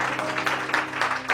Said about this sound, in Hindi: ताली बजाकर महिमा करें।